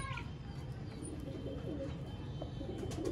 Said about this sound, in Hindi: ये हैं दोस्तों बटेरे कबूतर।